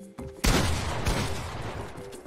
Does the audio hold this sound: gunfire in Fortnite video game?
yes